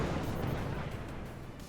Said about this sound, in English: And here come the mortars.